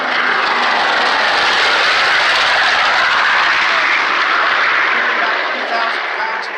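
B-25 bomber engine roaring loud and steady, a broad sustained engine drone that fills the whole stretch and fades slightly near the end.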